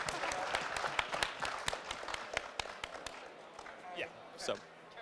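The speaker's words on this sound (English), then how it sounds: "Can I get a huge round of applause for these people?" A crowd at an ATX DAO meetup claps loudly and continuously for the presenters. Voices and a few louder bursts rise near the end as the applause thins out.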